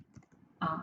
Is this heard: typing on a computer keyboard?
yes